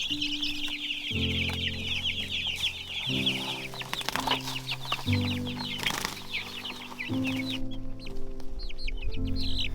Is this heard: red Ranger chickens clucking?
yes